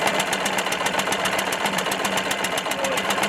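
A Stihl BR 600 Magnum backpack blower idles with a steady, rapid, evenly pulsing engine putter, close and moderately loud, with no voices over it.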